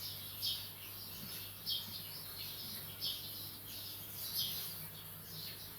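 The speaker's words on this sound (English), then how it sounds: "Some nice sparrow noise first thing in the morning." Faint, repeated chirps from sparrows in the morning recur every second or so over a low steady hum, the birds calling at a distance.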